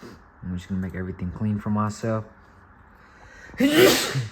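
Someone speaks briefly, then after a short pause a single sharp, loud sneeze bursts out nearby.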